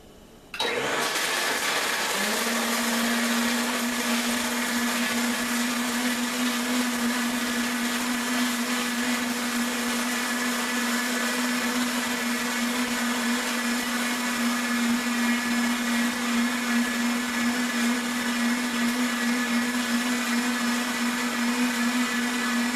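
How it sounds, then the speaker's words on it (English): An Omni 5 blender switches on abruptly and runs at a constant high-speed whine with a steady motor hum, loud and close, with no break for over twenty seconds. "as you listen to the blender run as well"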